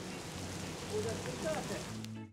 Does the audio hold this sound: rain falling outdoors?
yes